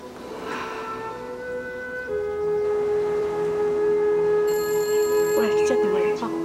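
A telephone rings in a household during a Taiwanese drama scene, its steady electronic bell tones sustained and fairly loud before a voice speaks near the end.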